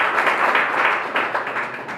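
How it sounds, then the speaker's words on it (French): An audience at a community assembly applauding, a dense burst of clapping from many hands that rises and then thins out over about two seconds. "C'est applaudi quand même."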